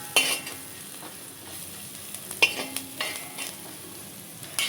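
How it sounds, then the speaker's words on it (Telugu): Turmeric sizzles in hot tempering oil while a spatula stirs and scrapes the pan in a few sharp strokes over a steady low fry, with no talking. "పసుపు వేసేసి ఒక్క నిమిషం పచ్చి వాసన పోయేంత వరకు అనేసుకున్న తర్వాత"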